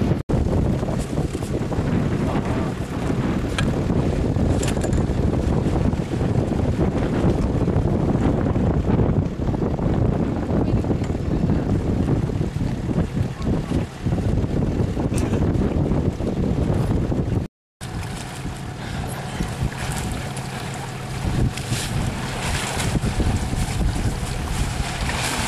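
A snowmobile skims across open water, its engine a steady loud roar blended with rushing wind and spray; the sound cuts out briefly near the end, then resumes at a slightly lower level.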